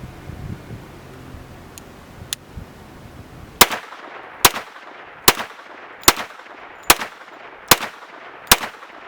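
Ruger LC Carbine in 10mm firing, with eight sharp, loud shots spaced about a second apart, each followed by a brief ringing decay, after a few seconds of quieter background noise.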